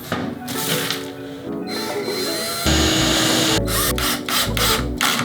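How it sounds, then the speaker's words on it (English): A power drill whines at high speed, then revs in several short bursts as it bores a pilot hole into wood, close and loud. "Lesson learned, always drill a pilot hole."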